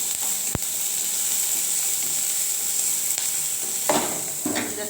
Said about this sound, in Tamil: இந்த பூண்டில் பாதி பூண்டு மட்டும் போட்டு இதை நல்லா பெரட்டிக்கலாம்